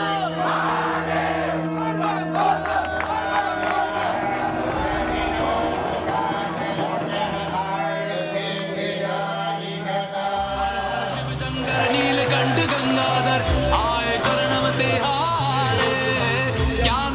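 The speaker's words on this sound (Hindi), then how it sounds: "हर तरफ हर हर महादेव की जयकार, तमाम मंदिरों में बम बम भोले की गूंज" Shiva devotees crowd temples on the first day of Sawan, raising a loud, continuous group chant of Har Har Mahadev that fills the whole stretch with dense, overlapping voices.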